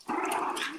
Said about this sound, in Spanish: mi perrita está en show completo